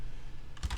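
A few quick computer keyboard keystrokes clatter near the end of an otherwise quiet moment, short and close.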